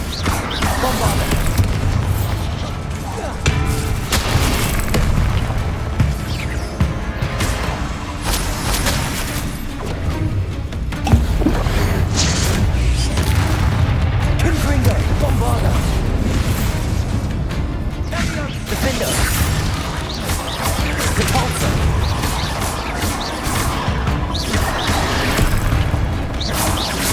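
Bombarda spell explosions in Hogwarts Legacy combat: repeated heavy booms and crashing bursts keep going throughout, loud and close, mixed with whooshes and shouted voices.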